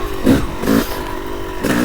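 A 2002 Honda CR125 two-stroke dirt bike running in second gear, its engine droning with rhythmic swells in pitch and loudness as the throttle pulses, close to the rider and steady.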